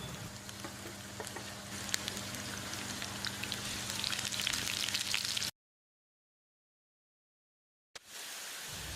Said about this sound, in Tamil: 2 பெரிய வெங்காயம் நீல வாக்கில் நறுக்கினது, இதை போட்டு பொன்னிறமாக வதக்கிடலாம்